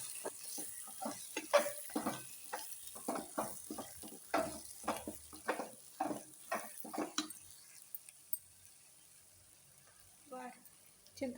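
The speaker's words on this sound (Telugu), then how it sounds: "సిమ్లో పెట్టి బాగా వేయించుకోవాలండి" Masala spices frying on a low flame for a curry, with close, irregular scraping and stirring strokes that come in quick bursts and then thin out into quieter, sparser stirs.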